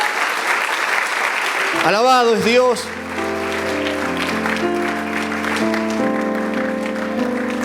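A church congregation bursts into loud applause after a preacher asks for it, with a voice shouting over the clapping before organ or keyboard chords take over.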